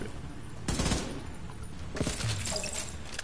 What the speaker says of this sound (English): Now you're using a pistol.